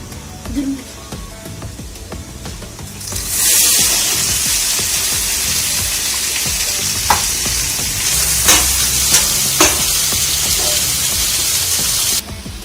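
Garlic and onions fry in a pan for sweet mango pickle. A quieter start gives way to a loud, steady sizzle that holds to the end, with a few sharp pops and clicks of stirring.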